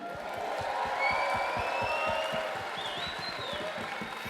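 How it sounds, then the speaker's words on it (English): A large crowd applauds the host at a World Scout Moot closing ceremony in Portugal, a steady, broad wash of clapping with faint cheering throughout. "a big round of applause for our host, the Portuguese Scout Federation"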